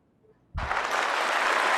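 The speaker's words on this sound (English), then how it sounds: "when I press buttons on it like this right here, I can have my own applause" Canned applause from a sound-effect button box bursts in suddenly after a brief quiet and continues as a steady crowd clapping and cheering.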